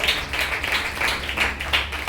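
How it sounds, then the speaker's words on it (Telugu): A church congregation clapping together in rhythmic, evenly spaced claps, moderately loud and slightly distant, with no voices over it. "చప్పట్లు మహిమ చెల్లించండి."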